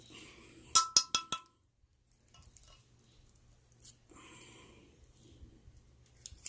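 A regular hand whisk strikes the side of a bowl while whipping an eczema cream mixture, a quick burst of sharp clinks followed by softer scraping stirs and a few later taps.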